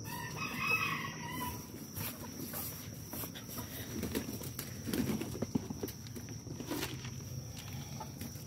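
Chickens in a messy backyard pen after a storm, with a rooster crowing and hens clucking at moderate distance, amid scattered rustling and outdoor background noise.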